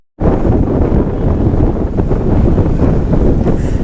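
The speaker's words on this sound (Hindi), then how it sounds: "हवा की आवाज़ सुन रहे हो आप?" Strong wind blasting by the Ganges in Rishikesh, a loud, continuous roaring buffet across the microphone that starts abruptly after a brief silence and keeps gusting without a break.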